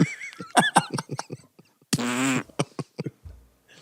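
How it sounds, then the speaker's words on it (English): A fart sound effect is played during a sports talk podcast: one long, loud, buzzy half-second blast rises out of a stretch of quick chatter, with voices talking before and after it. "you got a fart sound effect"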